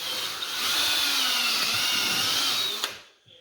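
A power drill whines at high speed as it bores stud holes into a tire, running steadily for about three seconds before stopping with a brief click.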